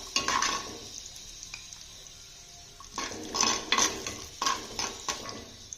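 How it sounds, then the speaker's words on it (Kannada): A spoon stirs cashews and raisins frying in ghee in a pan for bottle gourd payasa, giving close metallic scrapes and clinks in uneven bursts over a faint, soft sizzle, with no talking. "ದ್ರಾಕ್ಷಿ ಗೋಡಂಬಿ ಕ್ಲೀನಾಗಿ ಫ್ರೈ ಆಗಿದೆ ಈಗ."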